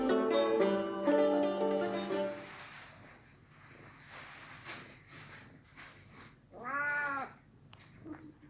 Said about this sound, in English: Friendly kitties.